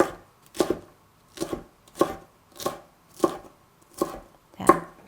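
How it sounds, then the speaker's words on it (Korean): A knife slicing red chili and cheongyang peppers on a cutting board, eight distinct, evenly spaced chops ringing out close and clear with no talk. "홍고추하고 청양고추 미리 썰어 놓으세요"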